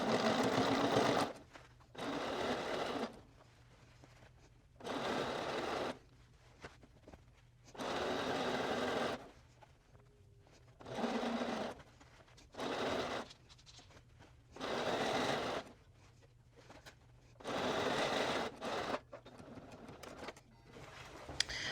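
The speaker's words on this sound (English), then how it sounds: "we're going to be sewing about 1/8 of an inch away from that folded edge" A sewing machine topstitches a folded shorts hem in repeated bursts of a few seconds each, a close steady mechanical whir that starts and stops about eight times with quiet pauses between.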